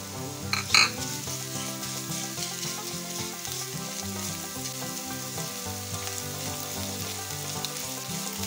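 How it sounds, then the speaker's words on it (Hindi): Garlic and ginger paste, a spoonful, sizzles in hot oil for a keema samosa filling, a steady close frying hiss that runs unbroken with a brief louder burst near the start. "इसे भी ऑयल में फ्राई करेंगे अच्छी तरह।"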